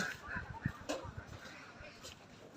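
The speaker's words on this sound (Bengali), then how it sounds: "অনেক হাঁস একসাথে, হাঁস কাউ কাউ কাউ কাউ করতেছে।" Many ducks at a duck farm quack together in a noisy, overlapping chorus, faint and somewhat distant, with short honking calls scattered over a steady outdoor background.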